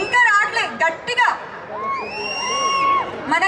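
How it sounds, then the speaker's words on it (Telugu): At a college cultural fest, a crowd shouts, whoops and cheers loudly in sustained waves, with whistles and high voices rising above the roar and a person speaking over it at the start. "చూసావా బాయ్స్ నుంచి కేకలే"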